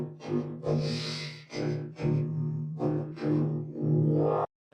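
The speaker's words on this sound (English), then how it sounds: "we have a vocoder loop loaded up" Original unprocessed vocoder loop playing in the Vengeance Avenger 2 software synth: a buzzy, distorted robotic voice-like phrase in several choppy bursts with a steady low drone, ending abruptly in silence.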